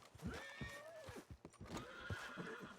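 A horse whinnies in a rising, wavering call over the rhythmic clip-clop of hooves, followed by snorts and more hoof steps, in the video game Red Dead Redemption 2.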